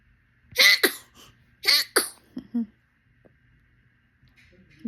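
A baby sneezes twice in quick succession, two sharp bursts close to the mic, followed by a few small breaths and whimpers in a quiet room.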